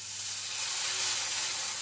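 An egg fries in butter in a pan, giving a steady, even sizzling hiss that stays close and constant with no talking.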